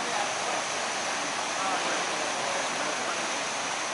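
The flooded Egg Harbor River at Weymouth Furnace park in Atlantic County, New Jersey, rushes past in a constant loud, broadband roar of churning water.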